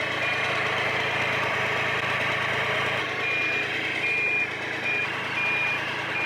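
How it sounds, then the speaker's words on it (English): A 50cc scooter's indicators beep steadily at a regular pace, like a reversing lorry alarm, over a continuous idling engine hum. "indicators that sound like a lorry reversing."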